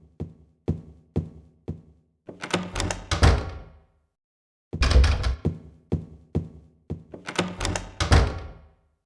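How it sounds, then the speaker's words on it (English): In Silent Hill 2, a door handle rattles with a row of sharp knocks and thunks before the door swings with a heavy creaking rush, and the sequence repeats, loud and close, with no voices. "So we can go open up that door now."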